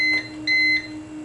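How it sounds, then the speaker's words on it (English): A UPS inverter running on its battery pack gives two short electronic beeps, evenly spaced, over a steady low electrical hum. "Now this one is running off of its battery pack."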